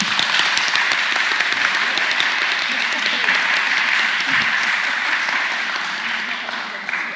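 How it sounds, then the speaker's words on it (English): Debate audience claps loudly and steadily in support of the proposition side, a dense, sustained wave of applause that holds for several seconds and tapers slightly at the end. "please clap as loud as you can in their support"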